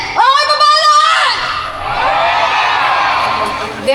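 Shouting and cheering from a crowd at the Bicol Loco music festival, with a burst of loud whoops and yells at the start that settles into a broad, sustained roar.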